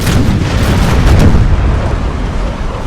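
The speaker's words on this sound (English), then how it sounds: "We're gonna select Grape Shot. This is gonna completely vaporize that crew, I hope." Ship cannons loaded with grape shot fire in Imperial Splendour, a naval battle game, producing a dense, rumbling roar of blasts that swells and then slowly fades, loud and close throughout.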